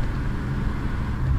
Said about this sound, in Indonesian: Lalu setelah mesin dihidupkan,